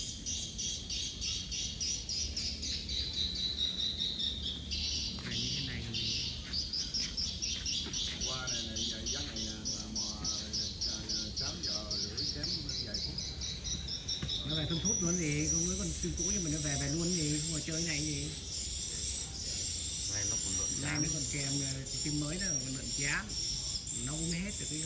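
Swiftlets calling at a swiftlet house in An Giang, a dense, continuous chorus of high buzzing chirps and twitters that swells louder partway through, with voices talking underneath.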